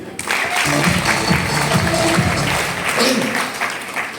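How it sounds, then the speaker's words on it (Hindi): Steady, loud clapping from a seated audience at a training session, a dense continuous patter lasting throughout with faint voices mixed in. "एक बार ताली बजा दीजिए।"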